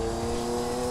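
A racing car's engine and exhaust in Gran Turismo 2, a car with big titanium-plated exhausts, holds a loud, steady, buzzing drone with strong tonal harmonics for the whole second.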